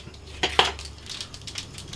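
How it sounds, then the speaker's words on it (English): A knife cuts up hot dogs on a board for Chicago-style dogs, giving two sharp clinks of blade on board close to the mic, then soft faint scraping and clatter; no one speaks. "I'm gonna just take our hot dogs, cut them up,"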